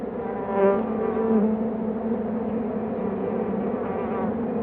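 A South European leaf-cutting bee buzzes close by in a steady, continuous drone that swells slightly in places and carries no speech.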